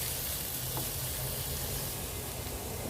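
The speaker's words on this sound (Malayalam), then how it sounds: "ഇത്തിരി വെളിച്ചെണ്ണ ഒഴിച്ച് കൊടുക്കാം. അതൊന്ന് മൂത്ത് വരുമ്പോൾ" Small shallots sizzling in coconut oil in a Kerala kitchen, a continuous dense hiss over a low steady hum with no voices.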